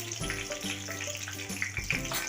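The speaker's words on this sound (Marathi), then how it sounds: "मोहरी चांगली तडतडली पाहिजे" Continuous close hiss of mustard seeds, cumin and curry leaves frying in hot oil, with small scattered pops and crackles over a few seconds, no voices.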